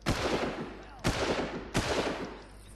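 Three loud single-shot gunshots in the video game Far Cry 6, fired one at a time about a second apart, each with a sharp crack and a rumbling decay.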